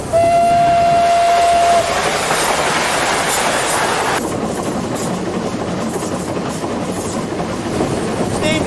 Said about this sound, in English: 957 Lancashire Yorkshire engine, one of the oldest on the railway.